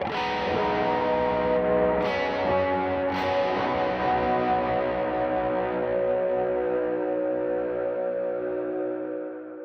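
A distorted electric guitar chord rings out with effects, sustaining and slowly fading away over several seconds, with no voices.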